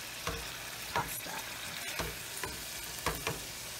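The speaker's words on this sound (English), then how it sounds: "Right now I'm sauteing the sausages with some onions and some olive oil" Sausages and onions sauté in olive oil in a pan with a low, continuous sizzle. A utensil stirs and taps the pan about every half second to second, close by, with no talking.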